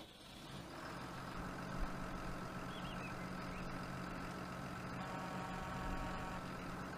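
International 1455/1255 XL tractor engine in Farming Simulator 2019 cranks and starts, then idles at a steady, close, constant rumble with a tonal drone for the full length, with no talking.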